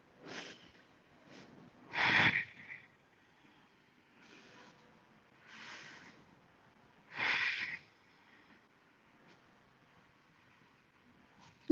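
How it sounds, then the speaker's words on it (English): Slow, audible breaths are held through a yoga pose, with several long airy inhales and exhales spaced a few seconds apart, close and quiet against near silence. "Let's breathe here, holding 5 breaths."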